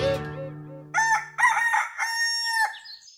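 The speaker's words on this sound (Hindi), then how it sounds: "क्यों ना हम खरैती की मुर्गी चट कर जाए" A rooster crows loudly and close, a single drawn-out cock-a-doodle-doo ending in a rising final note, following a brief low tonal sound.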